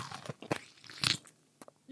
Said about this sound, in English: I'm just gonna take a bite out of a lemon